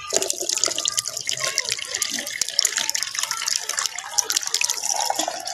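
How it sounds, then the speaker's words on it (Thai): Blanching water poured out of a pot while cooking ant eggs for a spicy Thai salad: a steady, splashing stream of liquid close by, lasting throughout with no talking. "เราจะเอาน้ำทิ้งก่อน เทไว้ในนี้ครับ"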